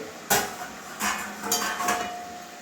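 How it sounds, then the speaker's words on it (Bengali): Metal lid placed on a cooking pan of cabbage curry, a sharp clank followed by a few lighter metallic knocks and scrapes, close and clear with no talking. "এবারে আবারও ঢাকনা করছি"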